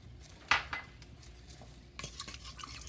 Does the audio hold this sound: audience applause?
no